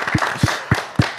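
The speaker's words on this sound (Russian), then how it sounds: "это достойно бурных аплодисментов" At a summer entertainment evening in Gomel, a few loud, slow, evenly spaced claps ring out close by, four distinct hits in just over a second.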